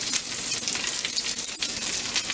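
Meatballs simmering in spaghetti sauce in a pot, giving a steady close bubbling sizzle with faint crackles throughout, no voices.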